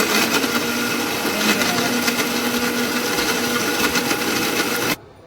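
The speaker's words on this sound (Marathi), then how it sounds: "आता हे मिक्सरला फिरून घेणार आहोत आपण" A mixer grinder whirs steadily as it blends buttermilk with salt, sugar, mint leaves and a few ice cubes, a loud continuous motor drone with rattling contents that cuts off abruptly near the end.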